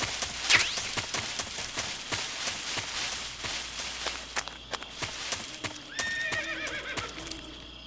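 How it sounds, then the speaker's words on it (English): In Metal Gear Solid 3, a horse whinnies sharply near the start amid steady clip-clop hooves, then another high neigh rings out toward the end. "Was that a horse?"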